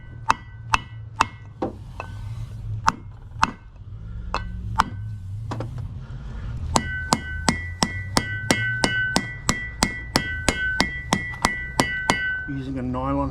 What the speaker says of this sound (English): Using a nylon hammer